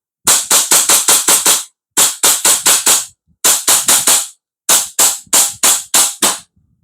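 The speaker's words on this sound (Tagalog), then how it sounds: "Firing po tayo mga ka-airsoft. Firing!" An AWC Infinity 7.0 airsoft gun with an enhanced big-bore nozzle fires four loud, close bursts of rapid sharp shots, each burst five or six cracks long, separated by short silent gaps.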